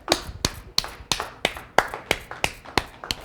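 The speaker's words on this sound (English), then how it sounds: "I think everybody in the studio clapping on that one" Studio audience applause after a poem reading: about ten sharp, evenly spaced claps, close and crisp, sounding like a single pair of hands snapping a steady rhythm rather than a full crowd.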